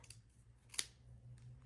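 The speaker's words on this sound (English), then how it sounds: "in between and cut the yarn" Dull scissors snip through yarn for a pom pom, giving one sharp, close cut amid a few faint softer snips over low hum, with no speech.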